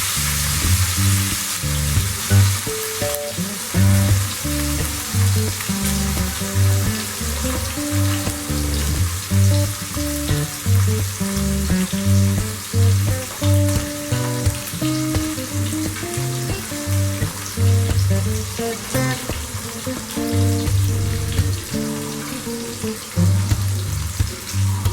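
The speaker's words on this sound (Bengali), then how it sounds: "এবার মাছগুলোকে সবগুলোকে ছেড়ে দিয়ে একটু ভালো করে ভেজে নিই।" Pieces of rohu fish frying in hot oil in a pan, a loud, steady, crackling sizzle with bubbling pops that continues throughout without talk.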